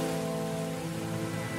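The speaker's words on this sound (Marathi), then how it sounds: "पाऊस कमी झालाय" Steady rain falling close by, a continuous wash of patter with no break over a short stretch and no voices.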